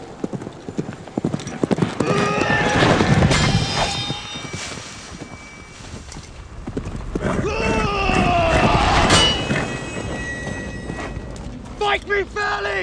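Horse hooves clip-clop in a film scene with several horses moving around, a horse whinnying, and other sounds mixed in, including wind noise on the microphone.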